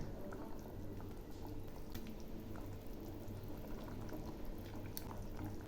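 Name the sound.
rohu fish pieces added to simmering curry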